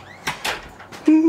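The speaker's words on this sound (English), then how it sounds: "And closing the door." A door is shut with a couple of short thuds and a latch click, followed by a brief tonal squeak or voice at the end.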